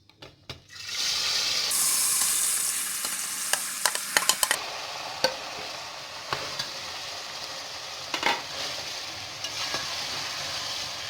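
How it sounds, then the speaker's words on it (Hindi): Milk-cooked carrots hit hot oil with cardamom for carrot halwa, setting off a steady sizzle with sharp clicks and scrapes of stirring close by, while the frying continues under the stirring. "जैसे ही इलायची में से खुशबू आना शुरू होगी, इसके अंदर जो हमने गाजर तैयार की है दूध के अंदर पकी हुई, वो हम डाल देंगे।"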